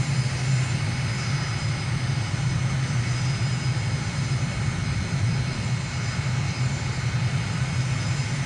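Aircraft engine in flight during a descent in Microsoft Flight Simulator, over Ashgabat, Turkmenistan: a constant, even droning hum that holds steady throughout with no voices.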